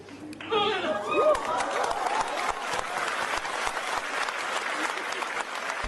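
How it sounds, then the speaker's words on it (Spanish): A church audience bursts into applause mixed with animated murmuring and chatter, a dense steady wash of clapping from a crowd that carries on throughout. "El público reaccionó de inmediato, con aplausos y murmullos animados."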